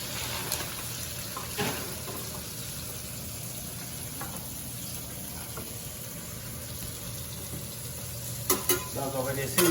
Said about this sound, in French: Donc, on va frire les frites.